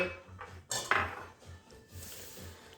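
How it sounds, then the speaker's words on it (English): Metal baking pans clatter and clank on a kitchen counter as they are handled, giving a few sharp ringing hits amid softer knocks and scrapes, with quiet background hum between. "I've got my prepared pans ready to go."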